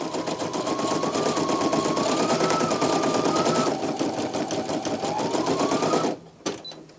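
A Brother PE-900 embroidery machine stitches steadily at close range, a fast even mechanical chatter with a shifting whine, then stops abruptly, followed by a brief clack as it trims jump stitches.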